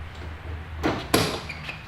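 A door panel on a CF Moto Z-Force 950 UTV is handled, giving two sharp knocks or thumps in close succession followed by a softer clack, nearby with no speech.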